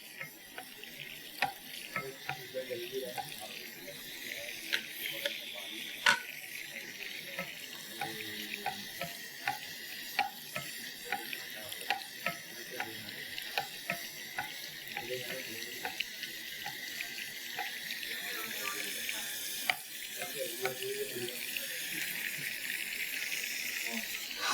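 Water running and splashing steadily from a pressure cooker on a kitchen stove, with a continuous hiss and scattered small clicks and taps, fairly quiet.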